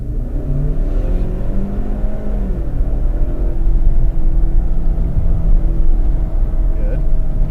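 A car engine revs and accelerates loudly with wavering pitch as the rear tires break grip into a drift, a close continuous roar with rising and falling tones, with voices faintly present.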